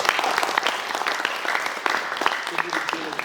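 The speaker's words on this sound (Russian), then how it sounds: "Как-то слабо вы хлопаете, ребята." Audience applause during a lecture-dialogue in Yakutia, steady dense clapping from a hall crowd filling the whole stretch, moderately loud with some voices mixed in.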